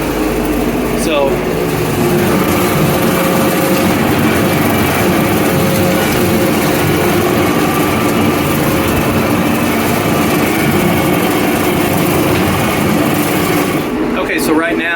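A tractor pulling a brush hog mower through tall weeds runs with a constant, loud engine drone and rattling cutter noise, heard up close for the whole stretch.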